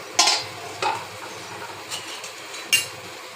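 A pot of desi chicken curry with potatoes, spiced with cumin, dried chili and ginger, is uncovered and worked with a utensil, giving a few close metallic scrapes and clinks over a soft, steady cooking hiss.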